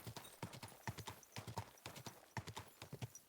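Horse hooves clip-clop at a steady trot in Kingdom Come Deliverance II, set in a mining village; the rhythmic, fairly close hoofbeats run throughout with an occasional faint whinny and no talk.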